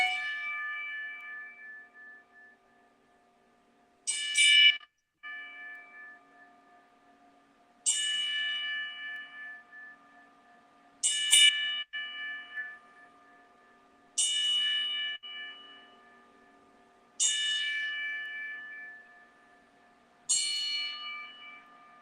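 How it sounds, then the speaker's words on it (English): A bell struck ten times as a memorial salute, each ring a bright, clear clang that decays slowly into near silence before the next, spaced a few seconds apart in a quiet room. "moment of silence as I do the 10-bell salute"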